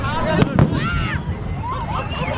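New Year's Eve fireworks going off in a street in Brazil: two sharp, close bangs in quick succession, loud over wind noise, while people talk and shout excitedly.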